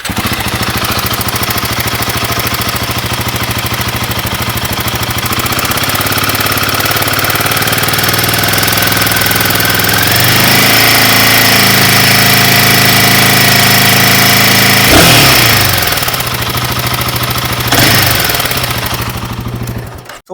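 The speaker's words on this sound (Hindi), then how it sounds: "तो चलो भाई सबसे पहले मैं आपको इस बाइक का साउंड सुनाता हूँ।" A Royal Enfield Himalayan 450 motorcycle, fitted with a replacement chain tensioner and suspected of an engine fault, runs loud and close with a rattling, pulsing idle, rising in pitch around the middle and settling again near the end.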